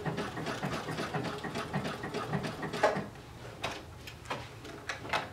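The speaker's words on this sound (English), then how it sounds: "And then just sew a zigzag stitch." A sewing machine sews a zigzag stitch onto an elastic waistband, giving a quiet, uneven run of rapid ticking and clattering bursts with no talking.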